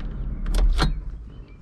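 A power window on a 2000 Porsche Boxster S runs briefly, giving a short motor whir and a soft thud as the glass moves, set against a low cabin hum with no talking.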